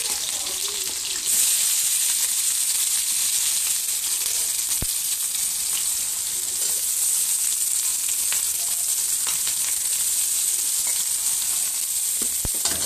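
Onions and green chilies fry in oil for a Pondicherry-style chicken curry, giving a loud, steady, close sizzle that runs the whole time with a few brief crackles and no talking.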